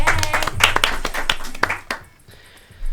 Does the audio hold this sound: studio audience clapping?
yes